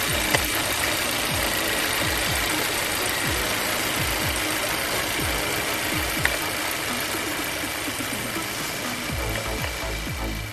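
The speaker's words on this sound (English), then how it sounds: "Let's listen to the noise of this Japanese car." A Japanese car engine idling with a steady, loud mechanical drone and rhythmic knocking ticks repeating throughout, close up and with no voices.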